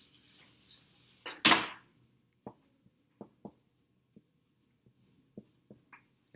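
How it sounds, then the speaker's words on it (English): An eraser makes one quick, loud swipe across a board during a chemistry lesson, then a string of faint, scattered taps and scrapes follows in a quiet room. "I'm going to erase real quick."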